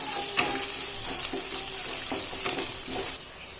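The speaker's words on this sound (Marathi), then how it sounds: "मिरची टाकून घेऊ आणि सोबतच कढीपत्ता पण।" Garlic, green chillies and curry leaves frying in oil for Khandeshi vangyache bharit, a quiet, steady sizzle broken by several soft stirring scrapes, with no one talking.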